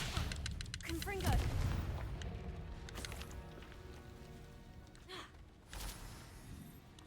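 Repeated Confringo fire-spell blasts in Hogwarts Legacy, sharp bursting impacts scattered across the clip amid combat noise, with a voice talking over them.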